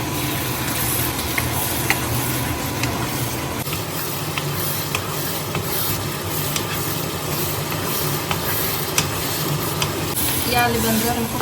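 Food fries in a pan on a home stove, giving a continuous hissing sizzle at an even, moderate loudness throughout.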